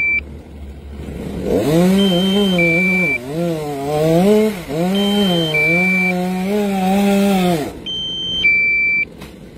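A chainsaw revs loudly and steadily, its pitch dipping and rising as it cuts a coconut tree, with intermittent electronic beeps before and after.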